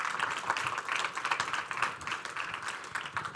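Steady applause from a ceremony audience in Porto during an entrepreneurship awards presentation, dense and continuous clapping that fills the moment without a break.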